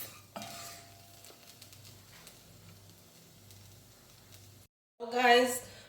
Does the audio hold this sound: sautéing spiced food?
yes